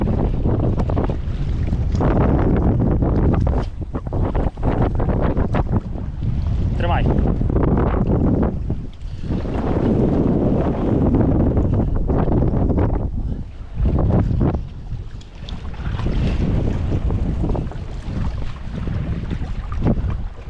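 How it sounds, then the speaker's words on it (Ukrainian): Strong wind gusts batter the microphone in loud, uneven bursts, with water sloshing nearby throughout, while trout fishing. "Йо-моє, який вітер."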